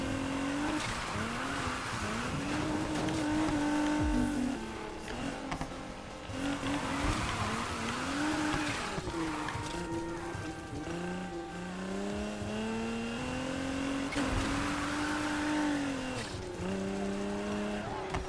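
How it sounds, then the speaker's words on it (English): Car drifting in the Need for Speed Heat racing game, with a revving engine rising and falling continuously beneath repeated tire squeals, loud and steady throughout with no talk. "I can feel that this car works better in high-speed drifting."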